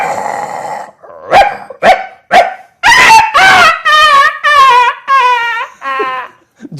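A human voice imitates dogs fighting, with rough growls, sharp barks and rising yelping howls in quick succession, loud and close.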